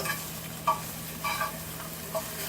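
Meat frying crispy in a pan with no oil, its own fat rendering off, a constant close sizzle broken by several short scraping stirs.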